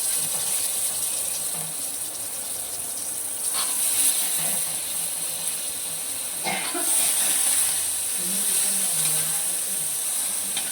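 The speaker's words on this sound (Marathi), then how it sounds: "तेलामध्ये ते तळूनच घेऊया" Drumstick pods frying in hot oil with red masala and salt, a steady close sizzle and hiss that runs throughout, with occasional brief clatters and stirring bumps and a faint voice now and then.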